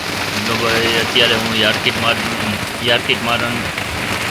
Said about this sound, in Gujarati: અત્યારે ભાઈ ફૂલ વરસાદનો માહોલ છે ગોંડલમાં